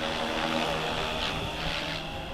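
A Fly Wing RC AirWolf helicopter in flight, a steady whirring rotor and motor drone held at an even level throughout, with no voices.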